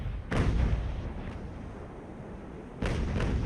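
Ship cannons firing in Ultimate Admiral Age of Sail, a naval battle game: two heavy booming broadside blasts, the first near 0.3 s and the second at 2.8 s, each with a long rumbling tail and no talking.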